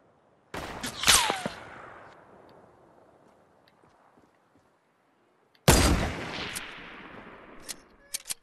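Two loud bursts of video game gunfire, one near the start and another about five seconds later, each a sharp crack with a trailing echo, followed by a few faint clicks near the end.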